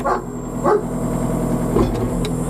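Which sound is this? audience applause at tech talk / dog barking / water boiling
dog barking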